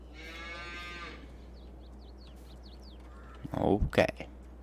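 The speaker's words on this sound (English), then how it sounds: "Cows are coming in." Cattle on a hay-making farm low as the cows come in: one drawn-out moo early on, then quiet farm ambience and a louder burst near the end.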